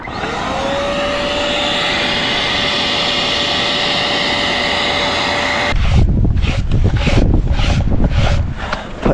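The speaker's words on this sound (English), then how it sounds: "let's hit it with the extractor vacuum again" An extractor vacuum runs loud and steady over a car carpet during a Grand Prix restoration, a constant whine that shifts into rhythmic, scrubbing strokes as the nozzle is dragged back and forth.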